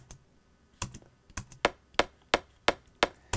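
An FM synthesized drum transient built in Ableton Operator, heard as a series of short, sharp, dry clicky hits repeating at an uneven pace, close and isolated with no other sounds.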